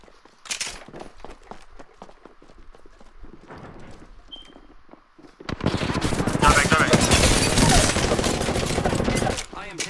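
Dense automatic gunfire and rapid weapon bursts from the video game Apex Legends, loud and sustained over the second half after scattered shots and softer game noise.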